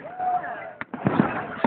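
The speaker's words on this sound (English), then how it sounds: "So as soon as the fireworks pop" Fireworks at a Canada Day display in Thunder Bay, with several sharp pops and bursts in quick succession over a steady background hum, fairly close.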